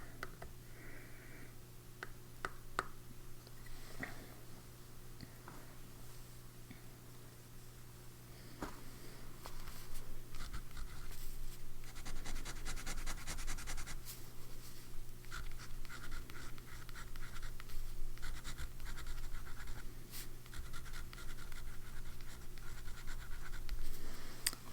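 A fountain pen nib scratches across paper up close in a quiet room, tracing continuous soft strokes with small taps and pauses, and the scratching grows slightly busier toward the end.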